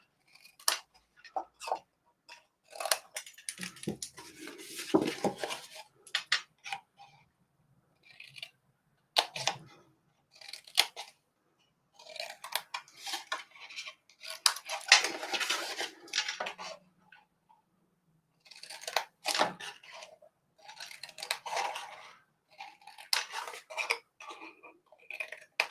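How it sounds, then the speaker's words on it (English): Scissors cut along a score line to take a wedge off a handmade cardstock card box, a series of close, dry snips and papery rustles in irregular bursts separated by short silences. "we're cutting into that score line and then cutting a wedge."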